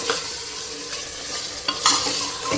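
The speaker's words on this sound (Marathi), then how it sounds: "कुकरमध्ये तेल टाकून घेतलं आणि चांगलं असं परतून घ्यायचं मटण" Mutton sizzles in hot oil while a spoon scrapes and stirs it around a pressure cooker, close and continuous with a few sharper clatters.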